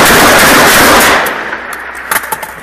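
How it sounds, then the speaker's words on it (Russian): Bursts of automatic gunfire aimed at the airport terminal building during a battle, a loud dense rattle of close shots that fades into scattered echoing reports. "Вот, видишь здание, прям по зданию стреляй."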